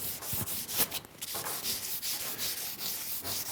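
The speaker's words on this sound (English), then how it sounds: "Sand where the new grip is going to be glued on. Sand all the way around." Sandpaper rubbed back and forth around a Concept2 oar handle where a new grip will be glued, a close, steady series of rough scratchy strokes with no talking.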